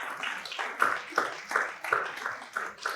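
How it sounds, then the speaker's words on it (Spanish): Church congregation clapping in praise to the Lord during a service: a steady rhythmic beat of hands, roughly three claps a second, moderately loud and mixed with a faint voice or music. "¿Cuánto le damos este aplauso al Señor?"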